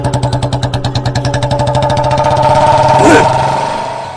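A motorcycle engine sounds loud and close, first as a quick regular pulsing beat, then as a rising roar as it speeds past. The roar peaks sharply and fades toward the end.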